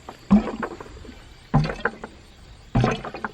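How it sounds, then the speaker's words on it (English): Three heavy, muffled knocks about 1.2 seconds apart come from the drive pipe of a ram pump cycling underwater in a small pond. Each knock trails off into brief gurgling rumble, and nobody speaks. "the noise that the drive pipe makes as it cycles."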